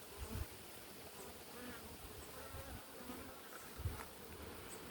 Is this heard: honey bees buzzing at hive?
yes